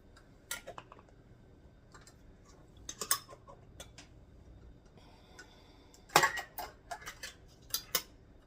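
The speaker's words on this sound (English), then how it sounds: "And then you put all your lids on." Metal lids set onto glass canning jars for home-canned chicken, heard as sharp clinks and ticks at irregular intervals with a quiet pause, close by and without speech.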